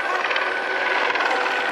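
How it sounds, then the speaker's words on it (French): A Eurocopter Tigre combat helicopter flies at an outdoor display at Rennes Saint Jacques, its steady, loud rotor and turbine roar filling the air without a break. "voici l'hélicoptère de combat européen le plus féroce qui existe"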